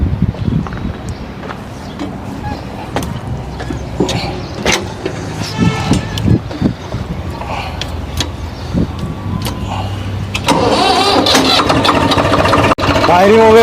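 A Swaraj 742 XT tractor from 2022 cranks and starts, then idles with a steady, close diesel rumble that grows louder near the end, with a person speaking over it and scattered clicks and knocks.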